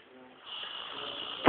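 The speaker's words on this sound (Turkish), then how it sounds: "Horlama şekli çok meşhur." A man snores with a drawn-out, raspy hissing inhalation that builds slowly in a quiet room, ending in a louder harsh snort at the close.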